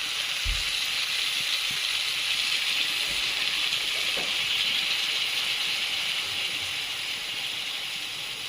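Mustard paste thinned with water hits a hot frying pan with poi shak stalks, potato, aubergine and hilsa fish oil, giving a steady loud hiss and sizzle that runs unbroken for the whole stretch, with a few faint clinks underneath.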